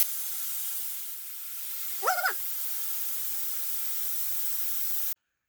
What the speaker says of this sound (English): I hear a lot of air coming out of the hose.